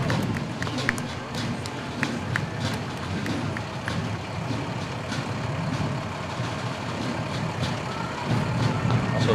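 Fire department trucks, including a cold water support truck and a brush unit, roll past a reviewing stand in a town battle day parade, a steady engine rumble with scattered clanks and crowd noise, and a voice talking over it.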